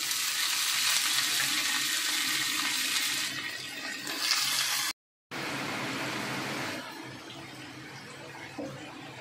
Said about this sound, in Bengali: এটা নাড়াচাড়া করে একটু হালকা ভেজে তারপর কুমড়োটা দেবো